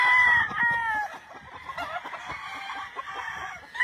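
Mature male fighting roosters on a ranch crow loudly at the start, then keep up scattered clucks and calls at close range, with no talk over them.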